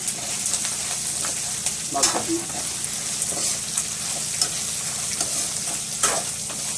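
Tempering of spices and asafoetida sizzling in hot oil in a pan while making mango semolina pulihora, a steady close crackling fry with occasional sharper spits and stirring clinks throughout.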